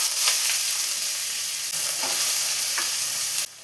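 Sliced small onions with cloves and cardamom sizzling in hot oil in a pan, a steady loud frying hiss broken by a few soft stirring scrapes, alone with no voices, cutting off abruptly at the end.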